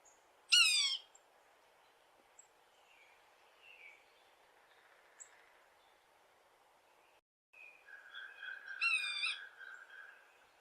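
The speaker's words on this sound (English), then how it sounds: "What you do hear a lot this time of year is the mew call." Sapsucker mew calls, a sharp descending cry near the start and a longer, drawn-out mewing call toward the end, faint and separated by quiet gaps.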